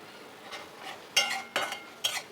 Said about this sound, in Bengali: দিয়ে দিচ্ছি পেঁয়াজ কুচি আর কাঁচামরিচ এটাকে আমি হালকা একটু ভেজে নিব